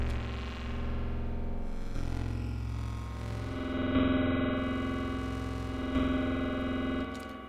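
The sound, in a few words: Ableton wavetable synth drone with reverb layers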